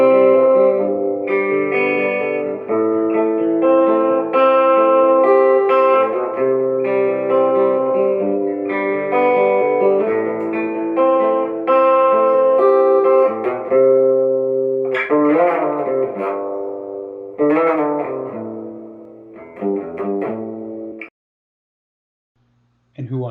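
Electric guitar played through an amp with heavy spring reverb, sustained chords and notes ringing with a wet, splashy tail, ending in a brief silence.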